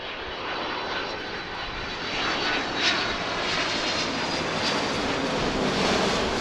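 A UPS jet airliner passes near Philadelphia airport with a loud, steady roar of jet engines that swells slightly as it goes by, with no voices.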